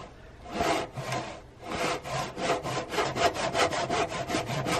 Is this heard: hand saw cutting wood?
yes